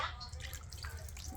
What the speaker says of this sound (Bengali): এখন আমি দিয়ে দিচ্ছি একটুখানি জল